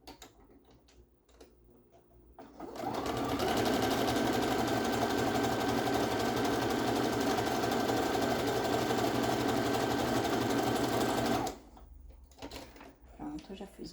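A sewing machine runs in one long, steady burst of stitching along the edge of a tank top's hem, loud and continuous for several seconds, with quieter handling sounds before and after.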